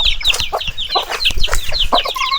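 Chickens cluck close by in a rural yard under bamboo, giving repeated short, overlapping clucks and calls that are loud and steady throughout.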